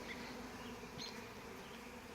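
Dense, continuous buzzing of many honeybees in a swarm, close and steady throughout with a constant insect drone and no speech.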